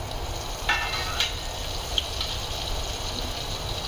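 Curry leaves and green chillies fry in hot oil with a soft, continuous sizzle, a few sharp spits and crackles popping out over the bubbling hiss.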